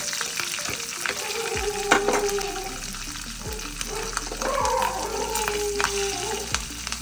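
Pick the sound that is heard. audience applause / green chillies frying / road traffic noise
green chillies frying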